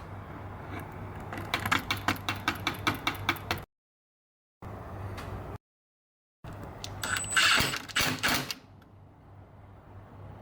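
Screwdriver driving screws into a wall to fix a folding clothesline bracket, heard as a quick series of clicking turns, then short pauses and a scraping, ratcheting burst, all fairly faint.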